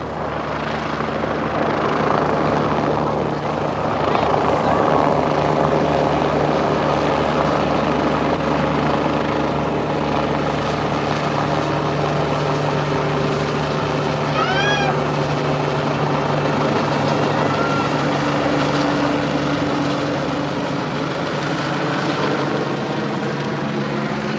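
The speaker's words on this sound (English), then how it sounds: "I'll show them the helicopter, too, first." A helicopter's steady rotor drone and engine hum fill the whole stretch, loud and continuous, with a brief chirp-like sound partway through.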